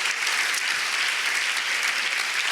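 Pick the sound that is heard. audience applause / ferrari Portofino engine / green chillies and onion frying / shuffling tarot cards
audience applause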